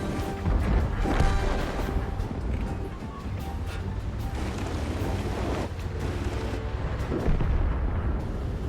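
A heavy tank gun blast in World of Tanks, a booming shot followed by rumbling engine and battle noise, with a few other dull impacts.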